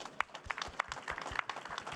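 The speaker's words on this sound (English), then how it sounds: "Let's give them a round of applause," Faint, sparse applause from a conference audience for panelists at a session on making biochar, with scattered distinct claps heard at a distance.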